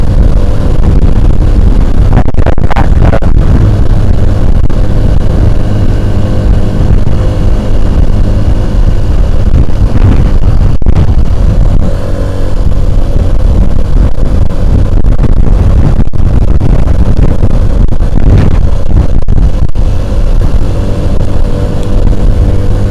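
A Honda Cub C90 motorcycle rides up a road, its small engine droning loudly and close with slight rises and dips in pitch, mixed with wind and road noise throughout.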